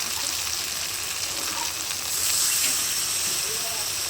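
Water goes into a hot pan of potato masala, and a broad, steady hiss of steam and sizzle follows, swelling slightly partway through and staying loud and close throughout.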